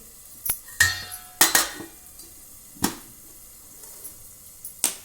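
Metal pot lid set onto a pot of tomatoes frying in oil, giving a few sharp clanks and clinks spread over several seconds, with quieter utensil knocks between, close and fairly loud, no talk.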